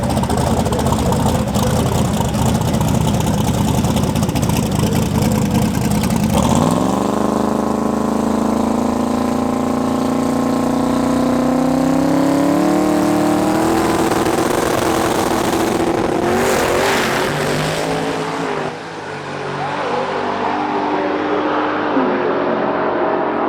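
A 1955 Chevy drag racing car's engine idles roughly and loudly, then revs in a long, steady climb in pitch before dropping back near the end.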